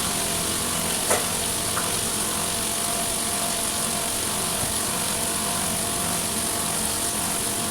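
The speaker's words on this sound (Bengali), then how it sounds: "এটাও কিন্তু আমি তিন মিনিট ধরে একটু ফ্রাই করে নেবো" Carrots frying in hot oil for a chicken stew, giving a steady broadband sizzle that stays even throughout, with a brief clink near the start and no voices.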